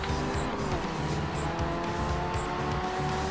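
Race cars in the racing game GRID 2, engines droning steadily at high revs with continuous tire noise, loud and unbroken throughout.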